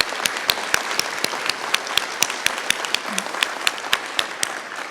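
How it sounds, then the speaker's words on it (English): Applause for students at a Rotary service fair, scattered close claps ringing out with a rapid, uneven rhythm over a soft crowd background, with no voices over them. "let's have a round of applause"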